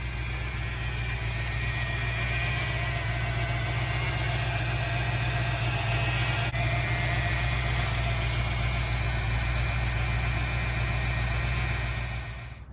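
A 1991 Ford Mustang 5.0 V8 idles on its own with a smooth, even low rumble that holds steady for the whole stretch, close by and with no voices over it.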